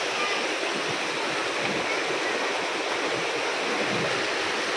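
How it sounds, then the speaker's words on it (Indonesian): A clear river flows below a glamping site at Lembah Tepus KGS Hill, a loud, continuous rush of water with a steady broadband hiss and no pauses throughout. "Nah, di bawah glampingnya itu nih, ada sungai begini."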